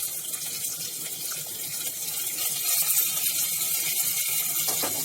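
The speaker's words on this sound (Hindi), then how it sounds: "अब हम इसमें बारीक कटा हुआ 2 मीडियम प्याज डाल रहे हैं।" Finely chopped onions, two medium ones, go into hot oil with crackled cumin and nigella seeds, producing a steady, close hiss of sizzling that swells slightly louder partway through, with no talking.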